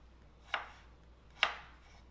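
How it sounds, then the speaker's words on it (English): Two crisp knife chops through potatoes on a cutting board, about a second apart, close and fairly quiet in an otherwise still kitchen. "I'm just going to finish cutting up these potatoes"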